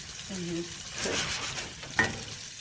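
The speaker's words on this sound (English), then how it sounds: "So now, I'm just gonna move the sausage to the side. Just want a little brown." Sausage browning in a high-rimmed saute pan, a soft sizzle with stirring and a clink of a utensil, faint beneath some background voice.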